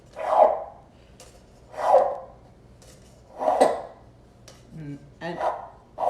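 A homemade roaring cup, a string with a hex nut on the end pulled through a cup, gives several loud rasping, barking roars spaced about 1.5 seconds apart, followed by shorter quicker bursts near the end.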